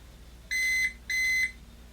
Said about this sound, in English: we heard 2 beeps